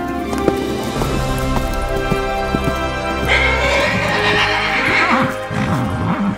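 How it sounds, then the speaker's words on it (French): Several horses gallop and neigh in an audio drama effect, loud and close, with rhythmic clip-clopping hooves running throughout and repeated whinnies rising above them. "Ces pions des petits chevaux qui galopent au loin"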